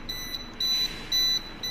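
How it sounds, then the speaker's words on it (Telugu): Sharp, sustained electronic tones from a tripped MCC control panel buzzer come in regular bursts with short gaps between them, loud and close with no voices over them. "మనకి బజర్ సౌండ్ వినిపిస్తుందా మీకు?"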